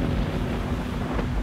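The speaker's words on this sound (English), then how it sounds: "reported gusts up to 55 knots and about 45 knots average" Steady, roaring storm-force wind at sea, gusting to about 55 knots, buffets the microphone with a low rumble, sustained and loud throughout, with no voices.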